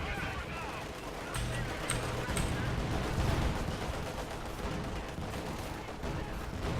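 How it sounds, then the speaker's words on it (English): In a Company of Heroes 2 match on the Pripyat map, howitzer shelling rumbles as dense, continuous distant booms and battle noise, with a voice talking over the bombardment. "The howitzer's shelling their base, by the way."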